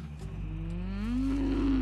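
A cow moos in one long, loud, steady call that swells slightly in pitch and strength toward the end, heard up close and alone.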